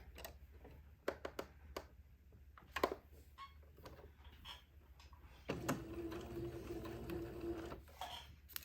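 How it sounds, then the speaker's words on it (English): A sewing machine runs a straight stitch on a baby layette garment. Faint clicks and handling noises come first, then a short, steady mechanical whir lasting about two seconds. "now using a straight stitch, let me sew this on."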